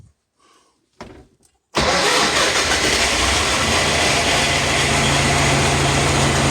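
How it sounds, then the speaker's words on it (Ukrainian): A YUMZ tractor engine, freshly repaired, cranks briefly after a couple of quiet clicks and bursts into a loud, steady diesel run that holds close and strong to the end. "Зараз вам покажу, друзі, як він заводиться"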